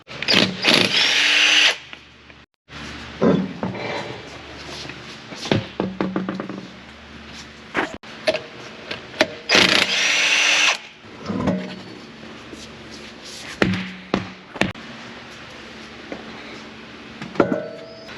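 Power tool tightening lug nuts on a lowered Dodge Ram's wheels, loud whirring bursts with sharp knocks and clanks between them, repeated over the stretch as each nut is run down.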